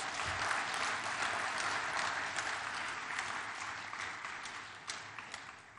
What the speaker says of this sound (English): I think she deserves a much bigger round of applause.